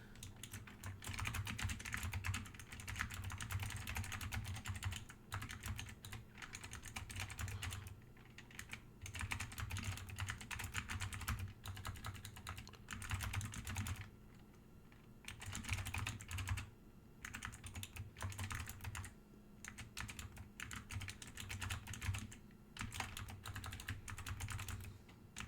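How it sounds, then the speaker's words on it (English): Rapid, continuous typing on a computer keyboard with brief pauses, steady clatter of keys over a low background hum, no talking. "seems to be having trouble with typing again"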